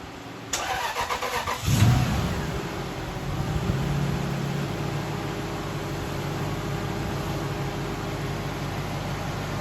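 Ford Falcon engine cranks and catches after a short whirring start, then settles into a steady mid-pitched idle as the car pulls out, moderately close with a faint background hiss.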